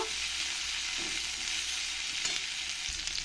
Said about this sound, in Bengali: রসুনগুলো ভালো করে লাল লাল করে ভেজে নিয়েছি